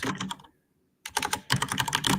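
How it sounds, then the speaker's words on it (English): Clattering keys on a noisy 1980s IBM computer keyboard, bursts of rapid close typing broken by a short pause, no voices. "That fucking keyboard is noisy."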